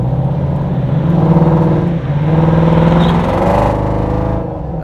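A 1967 Ford Mustang fastback fitted with a Coyote 5.0 V8 crate engine and six-speed automatic, heard from inside the cabin as a steady low engine drone that rises and swells under acceleration through turns, loud and continuous.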